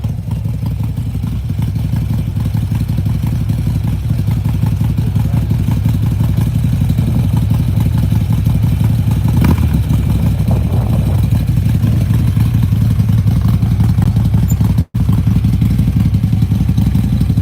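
Motorcycle engines rumble and rev at a packed Arizona Bike Week gathering, a loud continuous drone filling the whole stretch with no talking.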